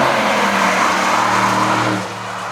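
Porsche 992.2 GT3 Touring prototype driving past on a track, a loud engine drone with a falling pitch as it goes by, close at first and then fading quickly after about two seconds.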